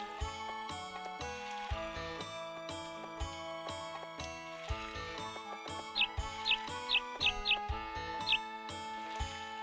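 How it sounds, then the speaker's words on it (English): Birds chirping in the video game Harvest Moon 64 over bouncy, plucked background music, with a cluster of short, sharp high chirps repeating about five times near the end and standing out clearly above the tune. "Those birds are so loud."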